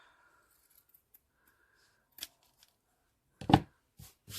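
Scissors snip through ribbon while bulk is trimmed from a boutique hair bow: a few sharp, close cuts spaced irregularly, with a louder crisp snip near the middle followed by two quicker ones, in an otherwise quiet room.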